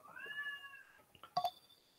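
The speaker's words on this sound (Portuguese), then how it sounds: "Tem um gato aqui fazendo" A cat meows twice, first a long drawn-out call, then a shorter, sharper meow after a brief pause, close by with no talking.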